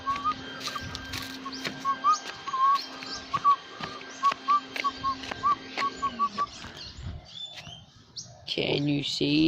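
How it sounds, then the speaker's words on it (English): A bird chirps outdoors in a long run of short, bright, evenly spaced tweets over a faint steady hum, with a voice speaking briefly near the end. "I think that was a bird."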